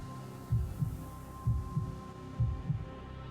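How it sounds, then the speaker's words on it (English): Heartbeat sound effect in a horror story about a cursed VHS tape: three low, thudding double beats in slow, even rhythm over a faint steady hum, close and alone. "her heart pounding in her chest, each beat echoing in the oppressive quiet"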